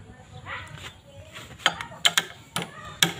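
A ratchet wrench loosens an 8 mm bolt on the kick starter of a Yamaha Vega ZR motorcycle, giving about five sharp, close metallic clicks at irregular intervals over faint background noise and low murmuring.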